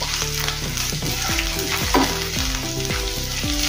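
Finely chopped ginger fries with garlic in a pan, a dense steady sizzle with stirring scrapes, under a faint tonal melody of background music.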